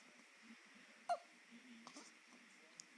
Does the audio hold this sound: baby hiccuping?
yes